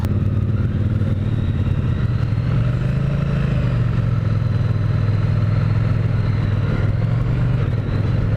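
A Triumph T100 motorcycle engine drones steadily and loudly while riding, its low rumble shifting slightly in pitch as it runs along.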